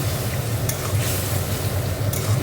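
Ground spice masala frying in oil with a splash of water, a steady close sizzle with soft scraping strokes of a spoon stirring it around the pan, continuous and even.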